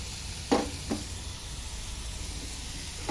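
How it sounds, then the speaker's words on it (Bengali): Broccoli fries in hot oil in a kadai with cumin seeds and spices, giving a steady low sizzle throughout with two brief louder bursts of stirring or spattering early on. "কড়াইয়ে তেল গরম করে এর মধ্যে জিরে ফোড়ন দিয়ে ব্রকলিগুলো দিয়ে খুব ভালো করে ভেজে নিতে হবে।"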